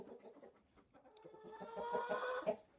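Several chickens cluck and murmur close by around new nesting boxes in a backyard coop, with short repeated clucks that rise into a louder, busier chorus toward the end.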